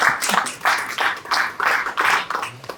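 An audience at a young CEOs' business forum applauds a panel member, the hand claps coming in a steady, rhythmic series of bursts at moderate loudness.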